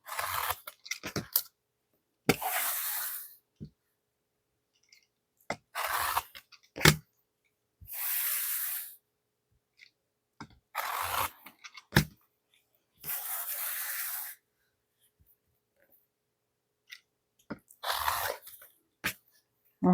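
Scissors cutting burlap for a Dollar Tree fall wreath, a series of close, crisp snipping and crunching bursts in irregular clusters separated by quiet pauses.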